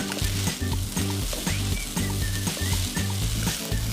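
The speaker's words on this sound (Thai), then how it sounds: "ทีนี้ก็ผัดจนข้าวแห้งดีเลยค่ะ" Egg fried rice is stir-fried in a pan until the grains dry out, giving a continuous loud sizzle broken by rhythmic scraping and tossing strokes of the spatula, with no talk.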